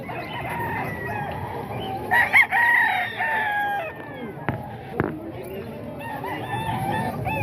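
Hens cluck steadily nearby while a rooster crows loudly, amid a busy farmyard din with faint background voices.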